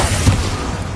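Bombarda explosion spell in Hogwarts Legacy, a single loud, close, low boom with a short rumbling tail, heard alone.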